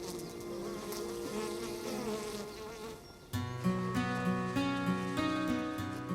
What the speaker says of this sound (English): You're covered in bees.